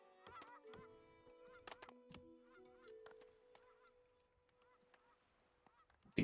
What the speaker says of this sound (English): geese are off south